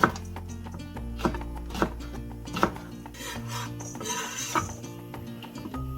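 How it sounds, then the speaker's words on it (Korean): A knife slices green chili peppers thinly on a cutting board, giving a series of sharp, close taps and scraping rubs at an uneven rhythm over a low steady background hum. "이제 풋고추 다지지 않고 얇게 썰을 거예요"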